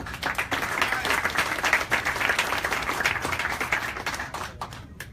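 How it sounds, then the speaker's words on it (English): An audience at a boxing press conference in New York gives a dense round of applause, steady and fairly loud before tapering off into a few scattered claps. "big round of applause to Mike Stafford."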